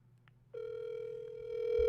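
Phone call tone played through a phone speaker: a faint low hum, then a steady electronic tone begins and holds, growing slightly louder toward the end.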